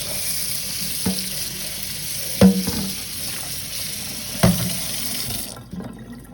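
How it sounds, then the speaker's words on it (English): Hot running water from a tap rinses an African violet plant at a sink, a steady close hiss and splash with a few brief louder knocks and handling bumps, cutting off near the end. "I go ahead and wash it with hot water"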